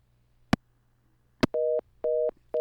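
Telephone busy signal after a phone line was hung up during a radio interview: two sharp clicks, then evenly spaced steady tones repeating about twice per second over a faint hum.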